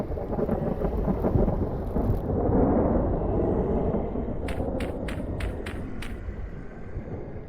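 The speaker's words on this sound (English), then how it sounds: "Got a thunderstorm going out there" Deep, rolling thunder from a thunderstorm in the survival video game Vintage Story rumbles continuously for several seconds, loud and heavy, while a run of six quick, sharp ticks sounds near the end; no one speaks.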